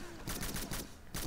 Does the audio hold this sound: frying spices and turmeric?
no